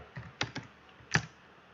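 A computer keyboard takes a few quick clicks followed by a single sharp keystroke, close and distinct against a quiet room.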